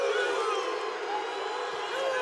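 Spartan home crowd at a Big Ten college wrestling match, Michigan State versus Iowa, a steady wash of many voices chanting and cheering in a large arena, even and sustained throughout.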